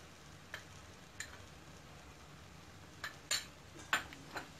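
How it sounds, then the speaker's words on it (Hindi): Lentils roasting in a pan for kachori filling give a faint low sizzle, broken by a few sharp ticks and scrapes of a spoon stirring against the pan. "अब इसे हम भून देंगे"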